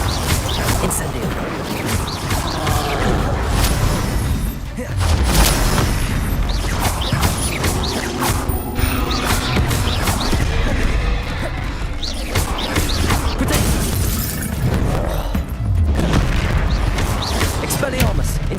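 Incendio fire spell explosions during Hogwarts Legacy spell combat, repeated booming impacts and crashes in a dense, loud battle mix, with a voice speaking over it.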